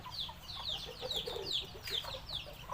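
Native Thai breed chickens cluck over and over in a farmyard, several birds overlapping in quick, fairly close calls above a low steady hum.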